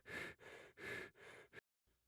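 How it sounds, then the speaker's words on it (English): Several heavy, close breaths in and out, rhythmic and loud, then a sudden stop into near silence. "I can hear you breathing."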